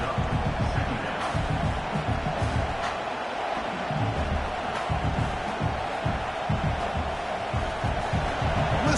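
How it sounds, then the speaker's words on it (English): Football stadium crowd roaring and cheering through an early-game play, a dense continuous wall of noise with swells, heard loud and close with no clear commentary. "Listen to the crowd energy here in the early going."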